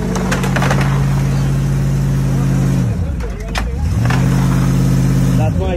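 A Hummer's engine revs loudly nearby, pitch rising then dipping and climbing again as it accelerates away during a police bodycam standoff on a blocked street, with shouting voices mixed in.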